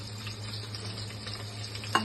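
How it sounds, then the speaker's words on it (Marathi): Cumin, mustard seeds, curry leaves and onion frying in hot oil for fodnicha bhat give off a faint, soft sizzle under a low steady hum, with a single brief clink near the end. "तेलात जिरं, मोहरी, कढीपत्ता, कांदा सगळं घातलंय।"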